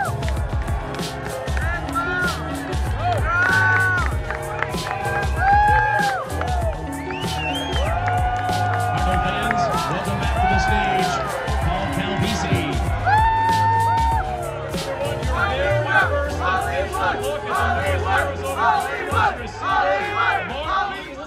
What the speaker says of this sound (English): the crowd went nuts once again here in person